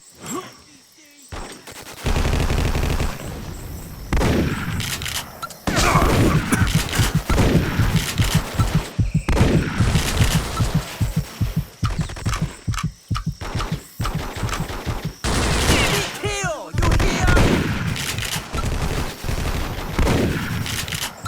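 Gunfire rages in a firefight in the Vietnam War shooter Vietcong: dense bursts of automatic rifle and machine-gun fire with scattered explosions, loud and continuous, sometimes near and sometimes farther off.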